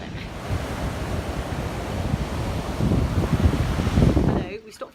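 Surf rolls onto a beach in Cornwall, a steady broadband wash swelling louder toward the end with heavy wind buffeting the microphone, then dropping away abruptly.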